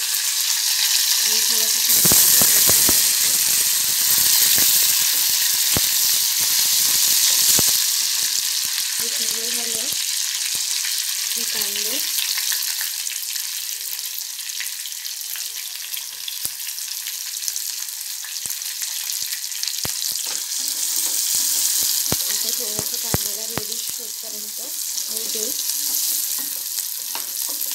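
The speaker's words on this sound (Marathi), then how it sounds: "लसूण होऊ देईल थोडा वेळ, देन आय विल ॲड मिरची, कढीपत्ता" Garlic, green chillies and curry leaves fry in hot oil for a Marathi-style roasted brinjal bharit, a steady loud sizzle throughout with brief stirring clatter and a few short stretches of someone talking over it.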